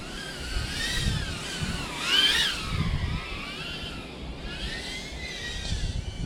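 A Cetus FPV quadcopter drone flies nearby, its small motors producing a thin, high whine that rises and falls in pitch as it maneuvers, with a brief louder surge partway through, and no talking.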